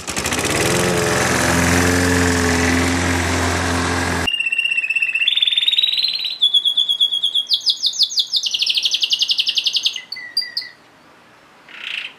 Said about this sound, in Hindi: role of lawn mower